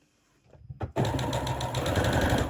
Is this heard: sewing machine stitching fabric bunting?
yes